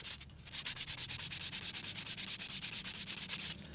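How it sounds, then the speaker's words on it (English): Hand sanding of a wooden arrow shaft, a steady run of close, rhythmic rubbing strokes, roughly six per second, loud and even with no talk. "I'll start sanding this nice and smooth, just like this"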